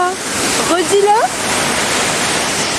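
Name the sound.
waterfall in Mexico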